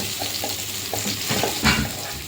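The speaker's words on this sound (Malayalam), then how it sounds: "ഉള്ളിയൊക്കെ അങ്ങനെ മുരിഞ്ഞു വരുന്നുണ്ട്." Onions sizzling and frying in a pan for tomato chutney, a close steady crackle with a few stirring scrapes and no talk.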